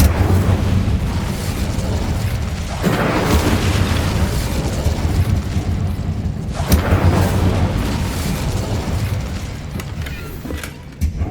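A fire spell going off in the Hogwarts Legacy video game: a loud, sustained roaring whoosh that swells twice with sharp bursts, filling the whole stretch without speech.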